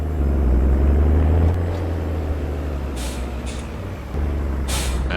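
A Ford truck engine in Farming Simulator 19 idles with a low, steady hum, broken by short bursts of hissing air and a shift in the engine drone partway through.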